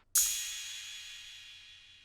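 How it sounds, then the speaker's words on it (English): A single wide crash cymbal hit rings out bright and loud, then slowly decays in a long shimmering wash with nothing else playing. "Every 8 bars, I'm going to play this wide crash that sounds like this."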